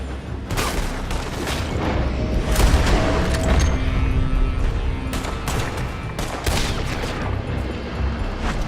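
Sustained gunfire from a building in Red Dead Redemption 2, a dense, loud barrage of overlapping shots and booming reports over continuous rumbling noise, with no voices.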